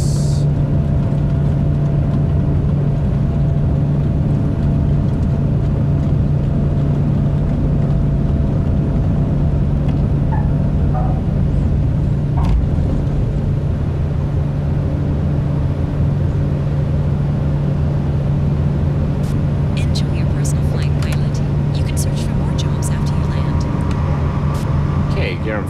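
Caribou twin turboprop engines spooling up on a takeoff roll in Microsoft Flight Simulator 2020, a steady loud drone with a strong constant hum, alone with no talking.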